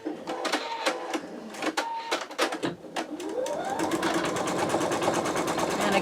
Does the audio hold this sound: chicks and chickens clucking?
no